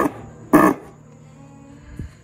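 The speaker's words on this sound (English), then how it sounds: "The horn in the car is actuated by a bulb" The bulb-squeezed horn of a 1913 Ford Model T gives one short, brassy honk, followed later by a faint squeak as the bulb is released.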